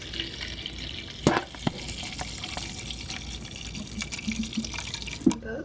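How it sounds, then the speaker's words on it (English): Water trickles and splashes into a cup already holding coconut milk for homemade sugar-free hot chocolate, a soft, uneven pour in a quiet kitchen with a couple of light clinks. "I just add water to fill up the rest."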